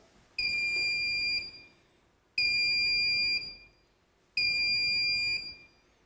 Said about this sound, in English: We'll test the buzzer.